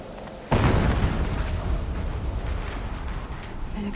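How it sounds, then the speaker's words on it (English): An explosion in the action game Horizon Zero Dawn bursts suddenly and loudly, then trails into a long, rumbling roar with crackling debris that stays strong to the end. "An explosion."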